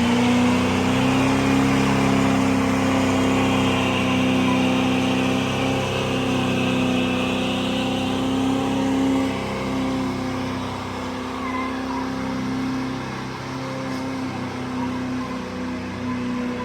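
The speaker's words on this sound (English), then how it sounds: "So this is him collecting the truck." A truck's engine revs and drives off, a steady mid-pitched drone that builds and holds before easing and fading somewhat toward the end, with no voices over it.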